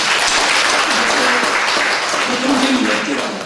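A church congregation bursts into loud, dense applause during worship, a continuous roar of clapping that fills the room, with faint voices mixed underneath.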